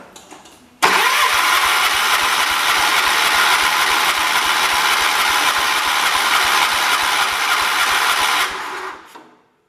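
A John Deere 212 garden tractor engine cranks and catches, then runs steadily and loudly close by for about eight seconds before cutting off and winding down.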